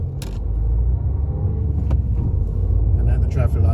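A car pulls away on an industrial estate, its engine a steady close low rumble throughout with brief clicks and knocks over it.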